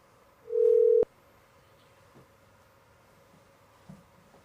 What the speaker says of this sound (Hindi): इनकी फोन लाइन डिस्कनेक्ट हो गई है।